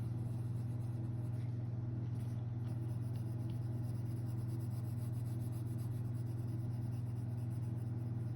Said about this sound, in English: I'm just using small little circular pencil strokes.